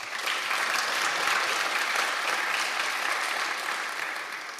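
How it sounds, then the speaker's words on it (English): Audience at a conference keynote breaks into sustained applause, a dense, steady wash of clapping from a large crowd that tapers slightly toward the end, with no speech over it. "So I'd like to have another great applause for you all."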